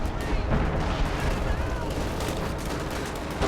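MG42 and PPSh guns fire in Company of Heroes 2, a dense, continuous clatter of shots and booms filling the battle scene, with faint voices mixed in.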